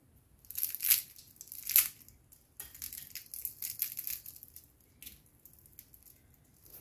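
Crisp homemade brick pastry rolls crunch loudly a few times up close, followed by softer crackling chewing and crumbling sounds.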